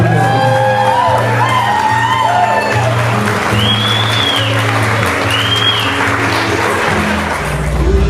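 A wedding crowd applauds the groom's mother steadily, with scattered whoops and shouts rising over the clapping throughout.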